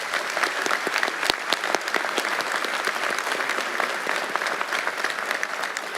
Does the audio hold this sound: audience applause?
yes